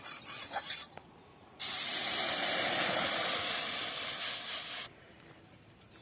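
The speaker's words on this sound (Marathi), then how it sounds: "आता त्याच कढीमध्ये लगेच पाणी तापायला ठेवायचं आहे" Water hits a hot kadhai just emptied of roasted semolina, a loud, sustained spitting hiss that starts abruptly, holds for about three seconds and then cuts off, with quieter kitchen clatter before and after.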